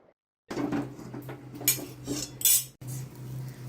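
A spatula scrapes and clinks against a kadhai as mint and coriander leaves are dry roasted, close and fairly busy, with a brief pause before the stirring resumes.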